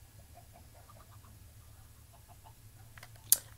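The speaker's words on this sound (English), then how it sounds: "I'll go down there and kill all those chickens." Soft, faint clucks from Minecraft chickens come in a loose run of short calls over a low game hum, followed by a couple of sharper clicks near the end.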